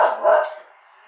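A dog barks in a couple of loud, close bursts at the start, then the sound fades to quiet indoors.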